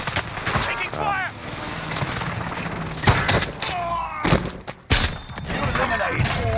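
Bursts of close gunfire in Warzone Rebirth, sharp cracks and rapid volleys scattered across the clip with impacts and shattering, mixed with game voice callouts and in-game radio speech.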